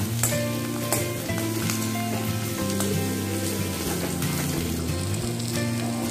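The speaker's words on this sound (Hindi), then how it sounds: "मैं इसमें डालूंगी ऑनियन, कैप्सिकम, कैरेट। 2 से 3 मिनट के लिए हल्का पका लेती हूँ।" Onion, capsicum and carrot sauté in a hot pan for red sauce pasta, giving a steady, loud, close sizzle with no pauses and no talking.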